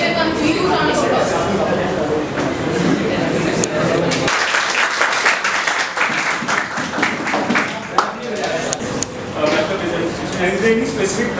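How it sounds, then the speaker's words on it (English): Audience applause welcoming a speaker at a seminar on prototype and process design, a steady dense patter of clapping that fills the room, with crowd noise and some voices mixed in throughout. "Please join me in giving a huge round of applause."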